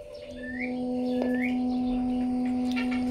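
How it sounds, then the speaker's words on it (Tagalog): An ICOM 02AT handheld radio gives off its transmit tone, a steady, unbroken electronic hum with faint bird chirps scattered in the background. "Yan yung kanyang transmit tone"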